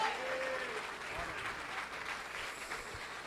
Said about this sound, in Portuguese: Alguém para dar glória e aplaudir a Jesus bem forte, igreja.